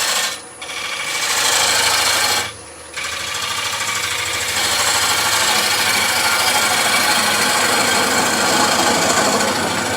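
A turning tool scrapes across the spinning base of a Luckham's oak bowl on a lathe, a loud continuous rasping whir broken by two brief dips as the cut lifts off, with no talk.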